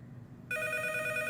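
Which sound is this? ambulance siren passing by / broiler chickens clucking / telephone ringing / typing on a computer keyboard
telephone ringing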